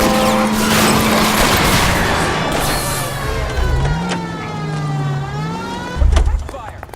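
Gunfire aimed at the tires of a fleeing car in the video game LA Noire, a burst of sharp shots over a revving car engine and game music, with a loud thump near the end.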